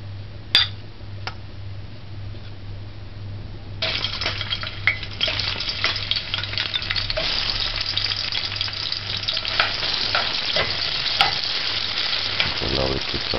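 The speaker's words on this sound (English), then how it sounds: "Allow it to saute for a minute." Chopped onions sauté in a hot pan on a medium-high stove for a saltfish macaroni dish. A steady, loud sizzle breaks out partway through and continues with scattered utensil clinks, and no one speaks.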